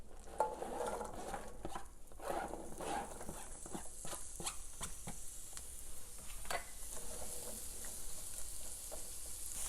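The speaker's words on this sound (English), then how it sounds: "we are going to saute the onion until the onion is translucent so you can see through the onions" Chopped onions sauteing in a pan on a stovetop for Philly cheesesteak filling, giving a steady close sizzle broken by frequent scraping and clicking stirring strokes, with no talking.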